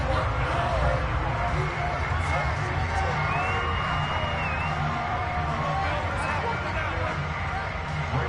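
Stadium crowd noise from the Madden 23 football game, a steady broad roar of fans cheering and applauding the defense after a stop forces fourth down, with faint whistles and calls over the constant hubbub.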